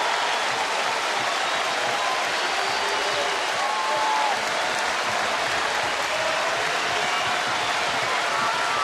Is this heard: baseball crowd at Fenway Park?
yes